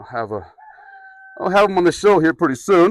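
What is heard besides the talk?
rooster crowing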